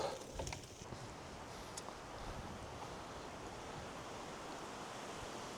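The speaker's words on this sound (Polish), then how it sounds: "Ale wieje, cholercia." Wind gusting steadily through a forest with young pines near a fenced clearing, a broad continuous rush that stays fairly even and close to the microphone for several seconds.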